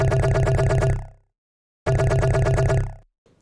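Two loud bursts of a buzzy, pulsing synth bass made in Ableton Operator, with a square-wave layer giving a hollow edge, each held about a second then cut off into silence.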